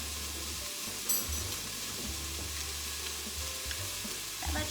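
Garlic sautéing in an Instant Pot, a steady close sizzle with scraping stir strokes against the pot and a brief louder clatter partway through, no voices.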